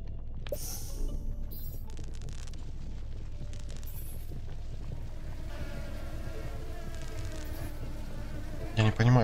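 Buzzing flies in the Supraland video game, a thin continuous insect drone mixed with game ambience and occasional chimes, ending in a louder burst of effects.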